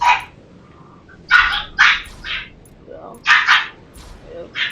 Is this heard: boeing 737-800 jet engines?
no